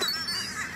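Geese or ducks honking while being fed, a short close burst of nasal calls heard alone.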